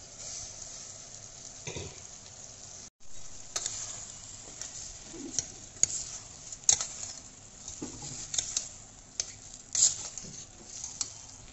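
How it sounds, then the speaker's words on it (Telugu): Soaked rice goes into a pan of cooked tomato and egg masala and is stirred, with faint sizzling and soft scraping and squelching of a spoon through the wet mixture in intermittent strokes. "సో టమాటా మగ్గిపోయింది, మగ్గిపోయిన తర్వాత నానబెట్టుకున్న బియ్యం వేస్తున్నాను."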